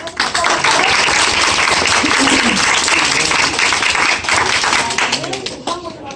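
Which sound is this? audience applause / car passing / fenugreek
audience applause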